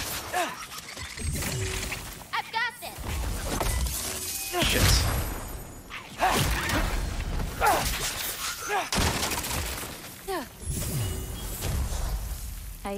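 Enemies blowing up in God of War Ragnarok, a string of loud shattering bursts and thuds with whooshes scattered across a busy battle mix.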